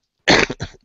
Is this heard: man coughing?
yes